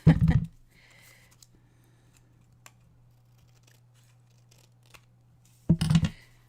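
Scissors trim a folded paper card in two bursts of crisp snipping, one at the start and one near the end, with quiet handling clicks and a low steady hum in between.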